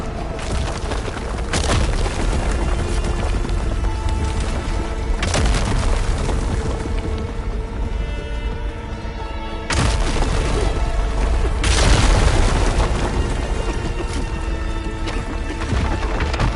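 Barrage of explosions in the video game Horizon: loud, heavy booms landing one after another, with dense crashing bursts at intervals over continuous rumbling battle noise.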